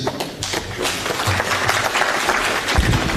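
A crowd at a farewell ceremony in Narok claps steadily in dense, sustained applause, loud and close throughout with a few louder thumps near the end.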